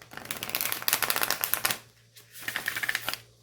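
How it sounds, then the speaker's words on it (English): Tarot cards are riffle shuffled by hand at close range, two bursts of rapid fluttering clicks separated by a brief pause, with no voices. "Let me try a couple of riffle shuffles."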